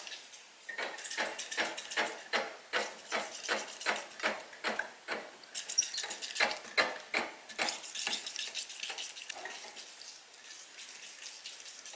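A hand-cranked Spong bean slicer cutting runner beans into diagonal slices makes a rhythmic series of crisp, close chopping clicks, steady at first and then thinning into softer, scattered snips.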